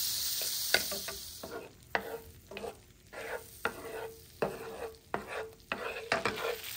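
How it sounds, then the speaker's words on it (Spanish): Butter melts in a hot frying pan with a gentle sizzle as a utensil pushes it around, giving repeated scraping strokes in an uneven rhythm. "voy a agregar la barrita de mantequilla. Y solamente la voy a mover por toda la sartén para que se vaya derritiendo"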